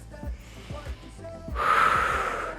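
A single deep, audible inhale during a Pilates exercise swells for about a second, close and clear, after a few brief vocal sounds.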